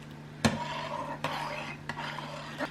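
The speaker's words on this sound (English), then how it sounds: "Just stir that up and let that soap just dissolve." Homemade liquid hand soap being stirred in a container so the soap dissolves, a utensil scraping and knocking against the sides in a few sharp strokes with softer swishing between, fairly close.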